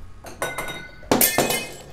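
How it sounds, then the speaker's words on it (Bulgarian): A glass shattering in the World of Warcraft video game, a quick series of bright crashing clinks and tinkles in two bursts, loud and close, with no talk over it. "Айде, струшихме чашата идеално."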